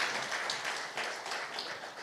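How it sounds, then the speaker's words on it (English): Audience applause at a conference plenary session, a short burst of scattered clapping heard at moderate distance, fairly soft and steady without talk over it. "Let's clap for them."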